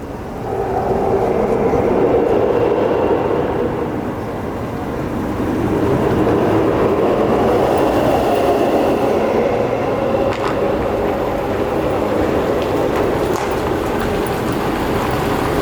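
The Ice Breaker roller coaster makes full circuit runs at the amusement park, a loud continuous rumbling roar of wheels on track that swells and dips for the whole stretch, heard from close by.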